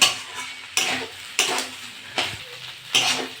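Banana stem being stir-fried with sugar in a pan, a spoon scraping and stirring in regular strokes about every three-quarters of a second over a soft continuous sizzle, close up.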